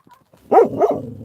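A dog gives two quick, loud barks close by, followed by a short fading tail, in a home setting.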